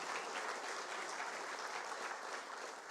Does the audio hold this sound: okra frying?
no